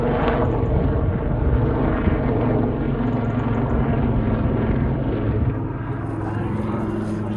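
A helicopter drones overhead in Carlisle with a steady, loud rotor and engine roar that fills the whole stretch, holding level and easing slightly toward the end.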